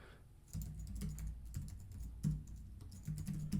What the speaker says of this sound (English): I'll type and name it something.